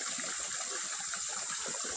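Water from a waterfall pours down steadily as a broad, continuous rushing wash, close and constant with no voices.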